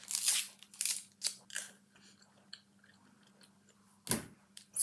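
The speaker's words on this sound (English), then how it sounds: "I'm gonna need some gum for this one." Gum being chewed close to the microphone, a series of wet, crunchy bites and mouth sounds in an irregular rhythm with quiet pauses between, no talking.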